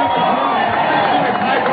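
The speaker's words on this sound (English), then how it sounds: "you can hear the crowd going crazy" Crowd roaring and cheering at the 1985 Op Pro surfing championship, a dense, continuous wash of many voices from a beachside audience reacting to a manoeuvre, steady and loud throughout the short moment.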